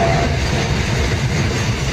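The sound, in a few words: empty freight train passing on Delhi Ring Railway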